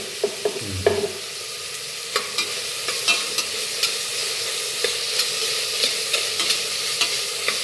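Onion, green chili, ginger and garlic sauté in a pan, a steady sizzle broken by regular scraping stirs of a spoon against the metal, close and moderately loud with no talking.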